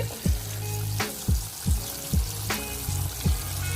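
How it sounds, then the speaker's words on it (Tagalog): Breaded chicken marinated in salt and garlic sizzles in a frying pan, with a steady close crackle broken by several soft, regularly spaced pops and bubbling bursts, with no talking. "Niluluto na po natin ang chicken."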